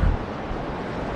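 Sea waves wash onto the beach at Gündoğdu near Side in April, a steady close rush of surf mixed with wind buffeting the microphone.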